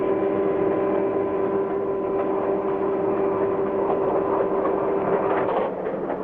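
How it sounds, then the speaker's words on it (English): Freight train number 40 rolls slowly out of a freight station over many tracks, a continuous heavy rumble with a faint clickety-clack of railroad cars, steady and fairly close throughout. "Freight train number 40 is carefully winding its way through the many tracks that lead out of the freight station."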